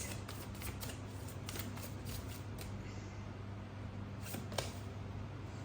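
Tarot cards shuffled and handled by hand, giving a run of soft, crisp riffling clicks and flicks over a steady low background hum, close and fairly quiet with no talking.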